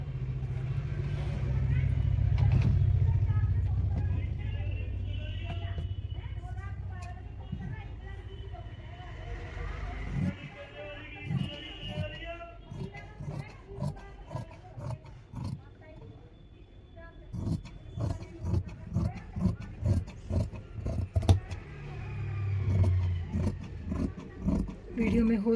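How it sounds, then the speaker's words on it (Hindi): Outside market traffic near a tailoring boutique: a low vehicle rumble swells loudly at the start and again near the end, with intermittent chatter-like sounds in between. "वीडियो में हो सकता है आपको थोड़ा सा बाहर का नॉइस आए, क्योंकि मेरा बुटीक मार्केट में है तो आना जाना लगा रहता है"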